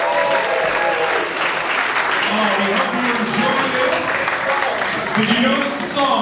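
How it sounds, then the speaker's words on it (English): Audience applause at a digital marketing awards dinner, loud sustained clapping from a large crowd with a host's voice talking over it. "Give yourselves a round of applause"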